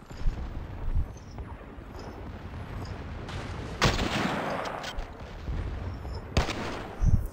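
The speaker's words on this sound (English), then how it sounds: "this is the Colt 1911 pistol" Colt 1911 pistol gunshots in a video game ring out as a few sharp, widely spaced reports over a constant busy rumble of battle noise.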